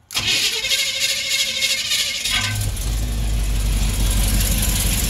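A car with newly fitted exhaust headers cranks briefly, then catches and settles into a loud, rumbling idle right up close, with no voices.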